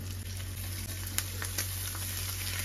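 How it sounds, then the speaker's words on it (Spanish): Bacon strips frying in a pan make a steady, soft sizzle with small crackles and pops scattered through it, heard close up and without talk. "Sofreímos unas cuantas tocinetas."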